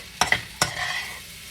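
Chili garlic fried rice is stirred in a hot pan with a few sharp scraping strokes over a steady, soft sizzle that fades out, with no talking.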